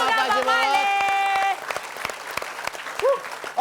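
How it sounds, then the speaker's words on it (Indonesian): A studio audience at an Indonesian comedy show applauds steadily, with a voice singing or calling over the clapping at first; the clapping then thins into scattered claps and short shouts. "Ya sekali lagi kita kasih tepuk tangan buat Iya."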